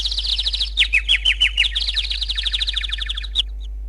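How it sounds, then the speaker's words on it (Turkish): A bird calls in a rapid series of bright, high chirps, close and loud, continuing for several seconds before stopping abruptly. "Bir kuş sesi çocuklar."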